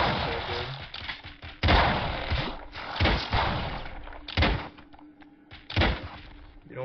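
A heavy gun firing in a video game, loud repeated blasts at irregular intervals over a dense, busy mix of game noise.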